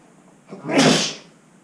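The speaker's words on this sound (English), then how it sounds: "I'm going to sneeze." A single person's sneeze, one sharp close burst swelling and fading within about a second against a quiet background.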